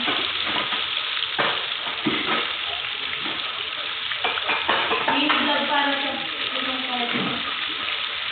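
Pieces of fried chicken sizzle steadily in a pan at a year-end party, the frying hiss running throughout with clatter nearby and people talking over it.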